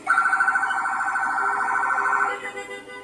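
A loud police siren wails nearby in a fast warbling yelp, then cuts off and fades into a lower tone.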